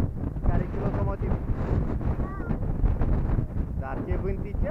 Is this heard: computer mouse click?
no